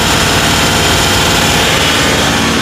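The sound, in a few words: Kubota tractor engine running, RPM raised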